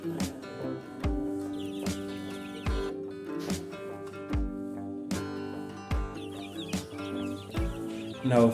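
Free-range chicks scratching and clucking outdoors on a farm, with repeated soft clucks and chirps over a steady background hum and periodic knocking sounds, no talk.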